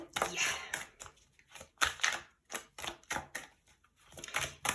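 Cards are shuffled in a series of quick riffling bursts, crisp and close, separated by short pauses, with no talking.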